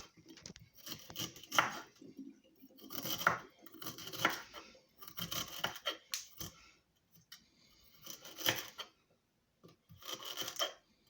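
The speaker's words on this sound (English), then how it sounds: "I'm gonna cut my ginger in small pieces." A knife chops ginger into small pieces on a board, giving quiet, close, repeated cutting taps in short uneven bursts with brief pauses between them.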